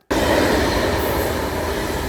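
A train pulling out of a station, loud and close, with steady broadband rumble and wheel noise running throughout after a brief silent start.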